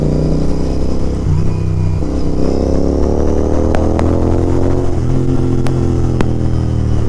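A Royal Enfield Interceptor 650 with a loud aftermarket exhaust roars steadily while being ridden, its deep engine note rising and falling with throttle under constant wind rush, close and loud throughout.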